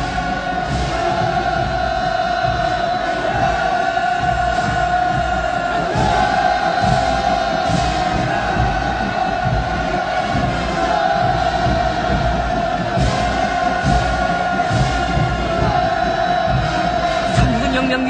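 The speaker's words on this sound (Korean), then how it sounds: "끝없는 감격과 환희가 우렁찬 만세 환호성으로 터져올라 또다시 온 광장을 진감하고 있습니다" Massed crowd at a North Korean military parade in a vast square, marking the 100th birthday of Kim Il Sung, roaring continuous hurrahs and cheers, dense and sustained for the whole stretch with steady loudness.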